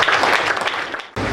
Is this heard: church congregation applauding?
yes